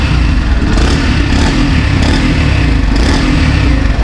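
A matte black 2021 Yamaha FZS Fi V3 BS6 motorcycle engine runs loud and close, a steady rumbling idle with slight revving throughout and no talking.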